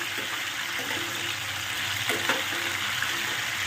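River fish frying in hot oil with potatoes, a steady close sizzle and crackle with a few brief louder pops and stirring clinks over a constant hiss.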